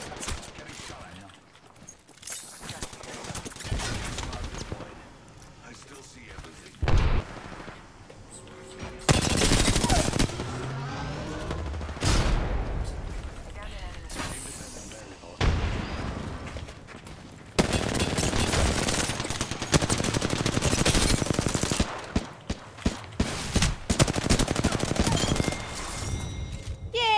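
Rapid automatic gunfire from an Apex Legends match comes in repeated loud bursts and volleys with short gaps between them, under intermittent talking.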